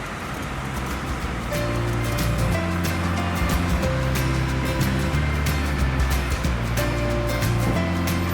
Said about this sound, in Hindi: कुटन में मौजूद ये एक ब्रिज है लकड़ी का बना हुआ और नीचे जागरा नाला बह रहा है।